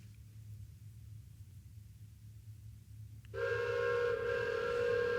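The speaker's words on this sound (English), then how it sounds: "Okay, so we still are connected to the train then. We're moving again." A moving train rumbles low and steady in a game scene, then a loud, sustained whistle-like tone rises abruptly partway through and holds over the rumble.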